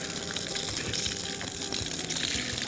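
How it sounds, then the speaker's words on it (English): Water gushes steadily from a Prier hot/cold exterior faucet, a loud, continuous rushing flow with no pauses and no talking over it. "let's turn some water on and see if this works."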